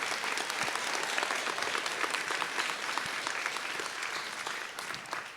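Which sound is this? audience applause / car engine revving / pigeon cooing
audience applause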